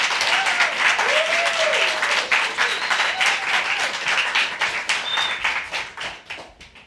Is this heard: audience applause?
yes